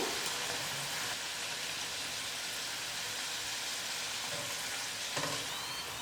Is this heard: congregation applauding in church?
no